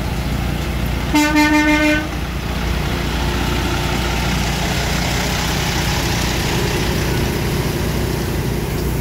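A truck horn blasts once, loud and close, for about a second over a steady idling engine rumble, which then continues alone for several seconds.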